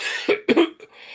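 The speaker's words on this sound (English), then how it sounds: "it is better to cough than to make strange sounds by suppressing it" A man coughs twice in quick succession, loud and close, with a short rough third burst trailing off, interrupting his lecture on quantum mechanics and dualism.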